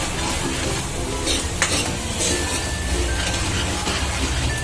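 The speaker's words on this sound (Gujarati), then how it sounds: "હવે સોતે કરી લઈએ 2 મિનિટ માટે" Chopped onion and garlic sauté in a hot pan for a Punjabi chhole gravy, giving a loud continuous sizzle with spoon scrapes and stirring clatter up close.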